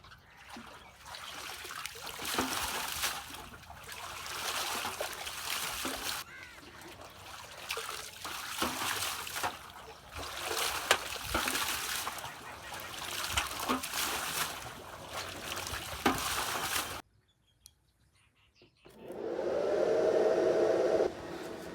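Water is poured into a household water pump motor, a continuous rushing trickle and splash with uneven pulses, a brief near-silent gap, then a louder steady gush at the end.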